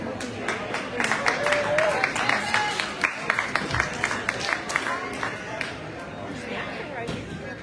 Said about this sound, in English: And our other competitors on the board cheering them on.